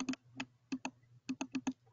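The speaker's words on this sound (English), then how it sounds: "I have people typing." Several people typing on computer keyboards, a fast, uneven clatter of close keystrokes in quick bursts with brief pauses.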